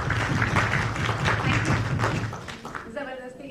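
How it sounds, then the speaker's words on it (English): Audience applause breaks out at a two-day international conference on lifelong learning: dense, steady clapping that fades out near the end, with voices audible underneath. "Give a big round of applause for her."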